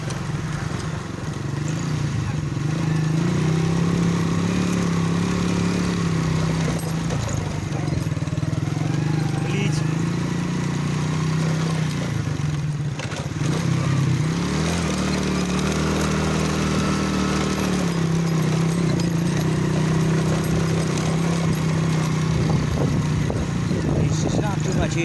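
A motorbike rides over a rough road toward Bhamala, its engine droning steadily and loudly at close range throughout, with a low, uneven rumble and voices talking over it.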